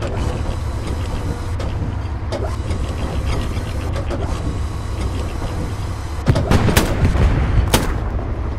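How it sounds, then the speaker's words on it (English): Explosion in the night battle game Hell Let Loose, a sudden loud blast rising out of a constant low rumble of vehicle and battle noise, followed by a second sharp burst. "there was an explosion on the right side of us"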